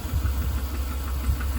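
A Cadillac Escalade's 6.2-litre LS V8 idling nearby with a slight noise in it, a steady low rumble with mild pulsing throughout and no voices.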